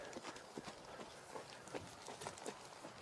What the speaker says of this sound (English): Then you can come up to your trot a little bit.